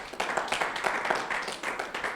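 A church congregation claps together during a prayer service, a steady patter of many hands from a room-sized crowd, moderately distant and somewhat faint, continuing throughout.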